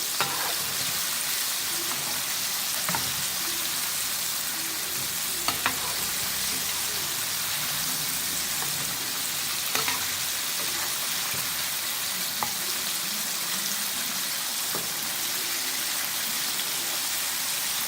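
Fried chicken pieces crackle and sizzle steadily in hot oil in a KFC-style recipe, with occasional sharp clicks as pieces are turned; no voices.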